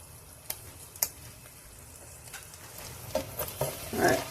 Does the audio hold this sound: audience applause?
no